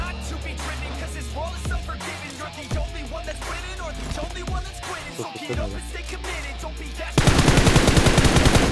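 Sustained bursts of automatic gunfire in a hard competitive shooter match, loud and continuous with rapid machine-gun rattles, and a louder, denser barrage erupting in the final second and a half.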